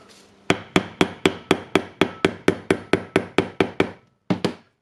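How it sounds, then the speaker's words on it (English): Fifteen sharp metallic hammer strikes on a tube against a bearing's inner ring ring out in a steady, even rhythm, close and loud, followed by a short pause and two final blows. "And then hammer it."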